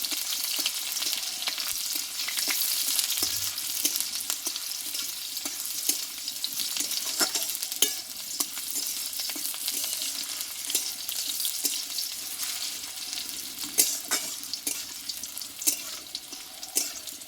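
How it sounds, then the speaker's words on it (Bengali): Chopped onion frying in oil with black cumin seeds, a steady bright sizzle with occasional stirring scrapes and crackles running throughout, close and continuous with no talking. "পেঁয়াজটা আমি একটু কালো জিরির সঙ্গে ভালোভাবে তেলে আমি ভেজে নেবো"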